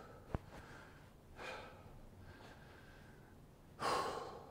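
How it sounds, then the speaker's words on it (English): Slow breathing during a beginner karate class, a sharp intake followed by soft exhalations and a stronger breath out near the end, close and quiet with no talking. "And breathe."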